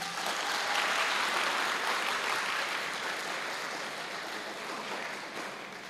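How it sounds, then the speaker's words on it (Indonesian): Applause from an audience at a film competition awards ceremony in a hall, a steady, fairly faint wash of clapping that fades slightly toward the end. "Tepuk tangan."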